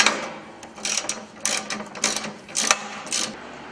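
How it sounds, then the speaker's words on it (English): A socket head cap screw being tightened on an ATV snow plow assembly, a series of close, quiet ratcheting clicks in irregular bursts with no talking. "Now we're going to tighten down our socket head cap screw."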